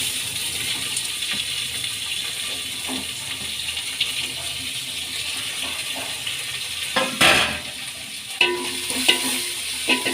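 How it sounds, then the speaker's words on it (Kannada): Onions with ginger are stirred in a pan for curry, a low steady sizzle with occasional louder scraping and clinking of a spoon against the metal, and faint background sound. "ಚೆನ್ನಾಗಿ ಮಿಕ್ಸ್ ಮಾಡೋಣ."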